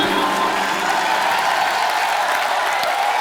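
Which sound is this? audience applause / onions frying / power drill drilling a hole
audience applause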